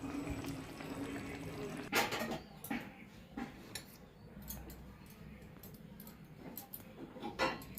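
Tel koi fish curry ladled into a bowl, with soft liquid pours and sharp clinks of a spoon against the dish, moderately close, in short irregular bursts.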